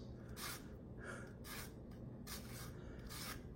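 Lemon being zested with a handheld zester: four distinct rasping scrapes in a steady rhythm, close and fairly quiet, with no talking.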